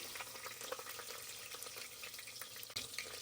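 Dried red chillies and cumin seeds sizzle in hot oil for a Telangana-style mutton curry, a dense, continuous crackling fry heard close up with small pops and no voices.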